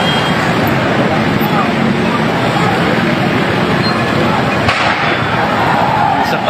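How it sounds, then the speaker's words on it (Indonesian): Explosions amid a riot fire at the Makassar city DPRD building during a mass demonstration, sounding as dull thuds within a loud, continuous roar of crowd and street noise, with one sharper burst standing out partway through. "Disertai beberapa ledakan."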